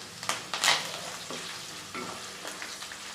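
Dried red chillies and curry leaves crackle as they fry in hot oil for a tomato thokku, with short bursts of spitting sizzle over a quieter steady fry.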